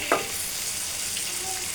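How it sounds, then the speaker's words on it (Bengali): Fish frying in a small amount of hot oil in a home kitchen, a steady bright sizzle with a brief stir or clatter near the start, close and continuous without talk. "আমি মাছগুলো দিয়ে দিয়েছি ভাজার জন্য"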